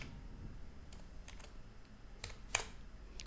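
Keystrokes on a computer keyboard while C program code is entered, arriving as sparse, irregular clicks with a sharper tap near the end, fairly close and alone over a faint steady room hiss.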